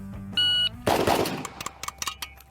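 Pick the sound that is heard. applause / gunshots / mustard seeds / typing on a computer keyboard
gunshots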